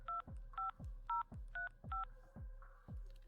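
Telephone keypad tones in the horror video game Room 202, a series of about seven evenly spaced short beeps, each followed by a soft thump, quiet and close.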